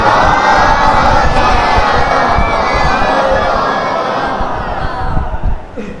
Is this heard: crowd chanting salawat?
yes